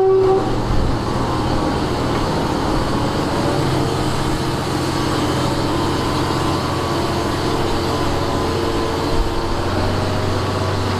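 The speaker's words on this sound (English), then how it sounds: "The locomotive." A restored locomotive rumbles steadily and loudly, its tone holding unbroken from start to finish, with no voices.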